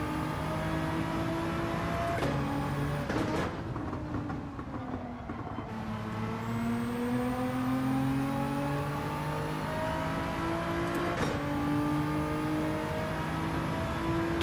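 Nissan race car accelerating at Watkins Glen in a racing game, engine revving up through rising pitch sweeps with gear shifts, a brief throttle lift midway, then climbing steadily again, loud and close.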